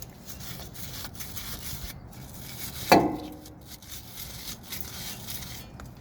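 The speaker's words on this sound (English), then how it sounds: "Now one thing I do recommend is giving these piston faces a light brushing." Light brushing of the piston faces on a front brake caliper from a Toyota Tacoma, a soft scratchy rubbing with one louder scrub near the middle, heard alone and close.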